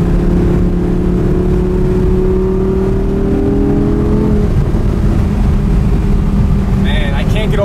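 A loud Audi R8 V10 engine drones at high revs, then eases off the throttle and settles lower with crackling, with voices talking over the motor.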